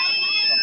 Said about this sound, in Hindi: ये फायर अलार्म है